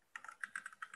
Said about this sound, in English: somebody's keyboard is clicking through their microphone